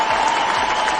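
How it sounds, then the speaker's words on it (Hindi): Audience applause at an inspirational talk, a dense, steady burst of clapping from a crowd, loud and continuous for about a second. "एक जोरदार ताली होनी चाहिए उनकी"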